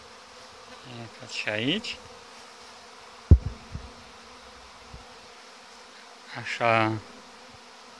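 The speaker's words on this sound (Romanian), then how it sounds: "Zborul puietului în luna august." Young honeybees fly in front of their hive in August, a soft buzzing swarm drone throughout, with someone speaking briefly in two short bursts and a sharp knock between them.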